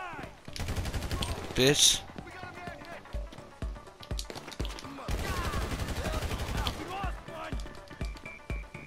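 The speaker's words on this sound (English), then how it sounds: "Yo, stop fucking shooting at me like that, bro." Rapid gunfire in a video game during the Drug Wars update: dense bursts of shots crackle through most of the stretch, loud and close, while someone talks over the shooting.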